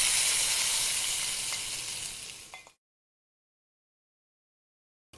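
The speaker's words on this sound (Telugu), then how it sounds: "ఈ పోపుని పప్పులో వేసేసుకోవాలి" Hot tempering (popu) poured into tomato dal gives a loud, dense sizzle that fades over about two and a half seconds and then cuts to silence.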